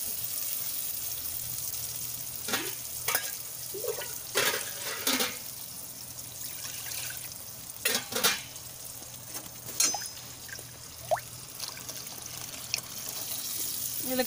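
A dissolved mixture is poured into a pan of prawn kulumbu that has been sautéed in oil, giving a soft, steady trickle of liquid broken by intermittent scrapes and clinks, with no talking.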